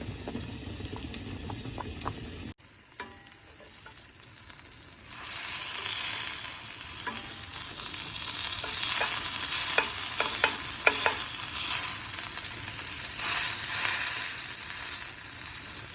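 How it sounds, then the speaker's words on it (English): Lamb chops sear in a hot skillet with steady sizzling and crackling, a bright frying hiss building after a few seconds and a bubbling undertone throughout, no voices. "While our lamb chops are searing, our potatoes are boiling nicely."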